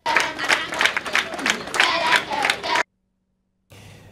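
A crowd at an inauguration ceremony that turned into a celebration with singing and dancing cheers and claps in a dense, continuous roar with rhythmic bursts, then cuts to silence before a short, quieter stretch of noise.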